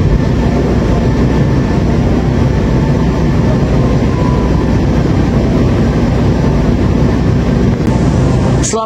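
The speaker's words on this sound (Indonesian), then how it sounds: "Kereta api Madiun Jaya masuk Karawang 2204." Madiun Jaya passenger train pulling into Karawang station, a steady loud rumble of wheels and carriage noise throughout with no voices.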